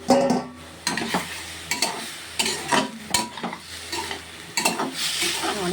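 A spoon stirs gadhal leaf curry in a pan in repeated scraping bursts about a second apart, with a low steady simmer beneath, close by and fairly loud, no voices.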